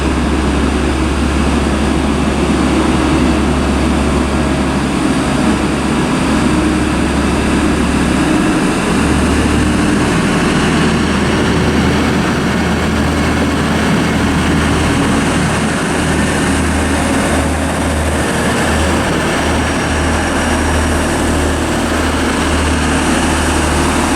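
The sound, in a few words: British Rail Class 185 diesel train departing Durham station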